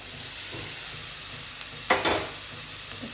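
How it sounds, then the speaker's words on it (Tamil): Tomatoes sauté in hot oil in a pan for a prawn fry, making a quiet, even sizzle with soft stirring. A brief, louder hiss flares up near the end, and no one speaks. "தக்காளி நல்லா வதக்கிக்கலாம்."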